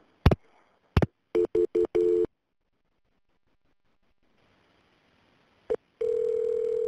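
Telephone line tones during a 911 call transfer to police: a few clicks, a rapid run of short beeps, then silence, a click and a steady sustained tone.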